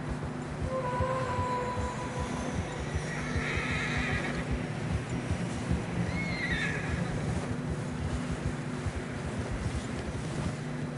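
Horses whinny a couple of times over a constant rumble of hooves and wind on a narrow, snowy trail in Red Dead Redemption 2, with faint background game sounds.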